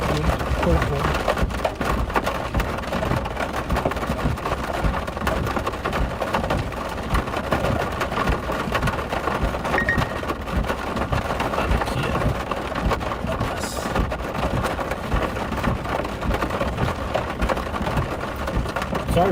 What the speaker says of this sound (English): Unfortunately, we can't do anything to quiet down the rain.